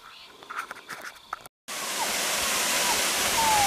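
Sengdip waterfall at the foot of Mount Giluwe in Papua New Guinea, about four meters high, roars as a steady, loud broadband rush after a brief stretch of quieter sound with a voice.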